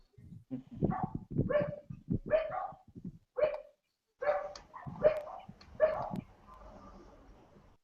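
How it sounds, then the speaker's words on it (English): A dog barks repeatedly in loud, close bursts, roughly seven barks spaced about a second apart, with a short gap midway and fainter whining near the end, heard during an online meeting. "Whose dog is all that?"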